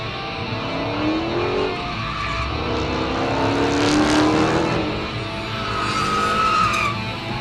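Dodge Charger American muscle car driving hard, tires squealing in long drawn-out skids over a steady engine roar that swells and fades, fairly loud with no talk.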